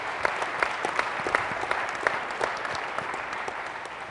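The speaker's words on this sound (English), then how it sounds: "Round of applause to those guys for doing that." A conference keynote audience gives moderate applause, individual claps standing out as distinct sharp hits over a continuous wash of clapping from a large room, heard from a distance.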